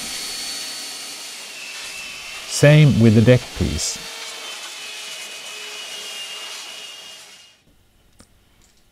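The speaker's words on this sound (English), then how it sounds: "And vacuum off the dust." Loud, steady whir of a vacuum cleaner sucking up sanding dust from an epoxy kayak laminate, briefly under a spoken remark, then cutting off near the end to quiet.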